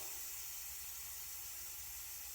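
Steady broadband hiss of steam venting from a pressure cooker valve while pork sirloin cooks, faint and continuous without a break, with no voices.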